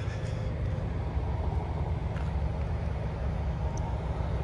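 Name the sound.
trucks passing on a road in Alabama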